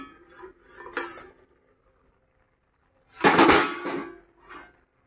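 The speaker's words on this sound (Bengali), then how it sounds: "এবার দেখি ঢাকনাটা তুলে দেখি কি হয়েছে।" A metal lid comes off a pot of dal cooking on the stove with a couple of clanks and rattles, then a louder scraping clatter, with quiet gaps in between.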